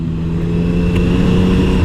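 Motorcycle engine droning loudly and steadily as the bike rides onto a motorway, a close, continuous rumble with no voices.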